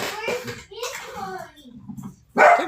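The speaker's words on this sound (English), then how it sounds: "Chip, please stop barking." A dog barks close by amid a voice talking, the sharp bark standing out at the end.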